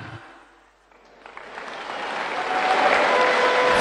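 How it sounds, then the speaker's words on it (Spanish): At a ceremony marking Santa Cruz's anniversary, crowd applause starts faintly after a short lull and swells into a broad, steady wash of clapping that keeps building to the end. "Fuerte el aplauso, por favor."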